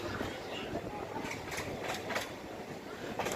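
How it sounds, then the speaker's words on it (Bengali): Train pulling into Kinnahar station on the Katwa–Ahmedpur line in rain, a steady rumbling run with wheel clatter and faint intermittent clacks, heard from on board throughout. "ট্রেন নিজস্ব গতিতে কিন্নাহার স্টেশনে"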